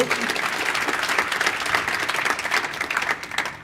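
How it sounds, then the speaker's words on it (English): A burst of audience applause at a breakfast conversation event, many hands clapping steadily and fairly close, filling the whole moment without a break. "Round of applause, please."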